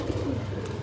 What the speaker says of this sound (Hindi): सियालकोटी बटेरे कबूतर